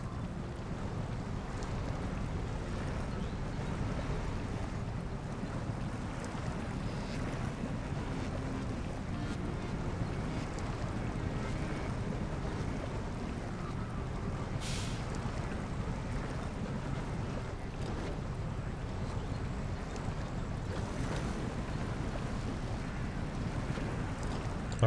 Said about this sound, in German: Step muss jetzt noch durchs Wasser.